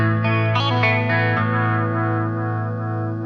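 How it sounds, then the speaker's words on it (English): An electric guitar plays through a Fender Champion 50XL amp with a slow wobble modulation effect. Sustained chords swell and waver under a chorus-like shimmer, loud and close with no speech. "So that's going to take the sound and just wobble it for you."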